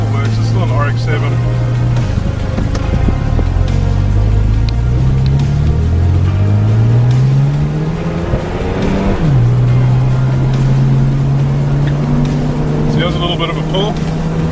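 Mazda RX7 FD with an automatic gearbox accelerating on the road, engine note rising through gears with shifts and dropping back, loud interior drone throughout, with talking over it.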